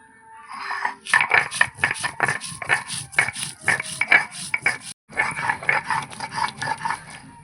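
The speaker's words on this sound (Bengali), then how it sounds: "গোটা জিরে বাটবো জিরে নিয়ে নিয়েছি" Whole cumin seeds ground into a paste: a steady run of rough, rhythmic scraping strokes, close and fairly loud, with a brief break near the end before the strokes resume.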